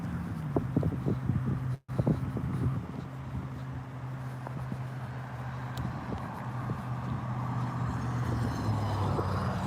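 A loud truck passes close by on a road at night, a steady low engine rumble with rustling wind noise, staying strong throughout with one brief dropout.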